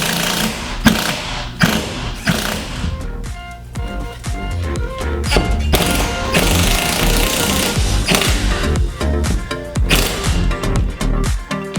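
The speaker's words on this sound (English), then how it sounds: "I'm going to use my Ingersoll rand." An Ingersoll Rand impact wrench drives large bolts while a speed bag platform is installed, giving loud, dense bursts of rattling hammering that run almost continuously, with brief dips between runs.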